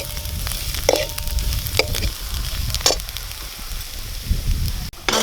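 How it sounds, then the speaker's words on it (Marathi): Mutton masala spices roast in hot oil in a farm-style village kitchen with a close, steady crackling sizzle. Spoon scrapes and knocks break in now and then. "तेलामध्ये हा मसाला चांगल्या प्रकारे भाजून घ्यायचा आहे"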